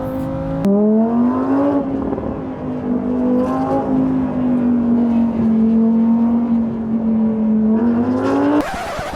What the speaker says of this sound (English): driving a Lamborghini on a racetrack in Bahrain